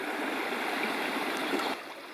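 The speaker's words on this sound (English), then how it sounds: "the creek continues on down toward the Laurel Fork there" Black House Creek flows steadily toward the Laurel Fork in the Big South Fork area of Tennessee, a close, continuous rushing babble of water that eases slightly near the end.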